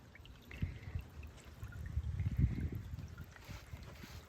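Water trickling and splashing out of a pipe into a cesspit outside a New Zealand house; a steady low gurgling flow with soft splashes, moderately close and continuous, with no talk.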